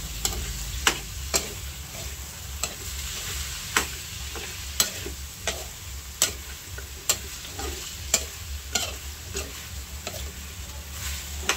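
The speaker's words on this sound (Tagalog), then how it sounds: "At akin lang pong hahaluin." Food stirred while frying in a pan with oyster sauce: a steady sizzle with regular sharp clicks and scrapes of a utensil against the pan, repeating roughly every second.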